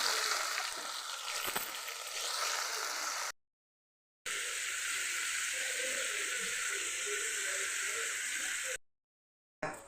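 Tomatoes and green chillies fry in a pan, giving a steady loud sizzle that fills the stretch, broken by two short silent gaps.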